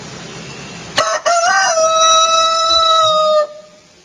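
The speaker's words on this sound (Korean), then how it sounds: "닭. 참 보시면 이게 하나님 만들어 주셨습니다. 새벽마다 울지 않습니까?" A rooster crows once, close and loud: one long, strong cock-a-doodle-doo with a rising start and a sustained, slightly wavering tone that cuts off cleanly over quiet background noise.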